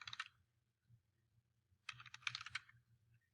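Quick clattering keystrokes on a computer keyboard, a short burst, a pause with a few faint taps, then a second denser flurry of typing, close but quiet.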